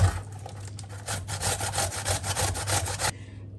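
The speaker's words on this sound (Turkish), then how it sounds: "Şimdi onun için şöyle iri bir pancarı soydum ve rendeliyorum." A large peeled beetroot is rubbed against a grater in quick, even back-and-forth strokes, close and fairly loud for about three seconds before stopping.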